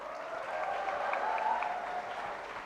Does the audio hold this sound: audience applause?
yes